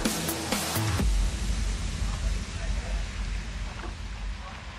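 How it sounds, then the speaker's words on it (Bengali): Strong wind sweeps over Vatra Beel, a large lake in Malda, buffeting the microphone with a steady, loud roar for several seconds after a brief opening of other noise. "এতটাই হাওয়ার প্রকোপ এখানে"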